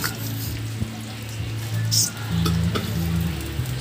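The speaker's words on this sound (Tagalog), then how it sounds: "At ayun na nga, luto na ang ating pritong isda." Galunggong fish frying in a hot pan in a home kitchen, a steady close sizzle and crackle running throughout with faint low background hum.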